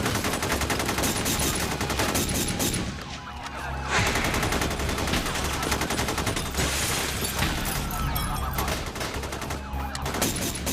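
Dense, sustained automatic gunfire during the North Hollywood shoot-out, with SWAT returning fire at close range, rapid overlapping bursts filling the whole stretch with a brief lull near the middle, loud and relentless.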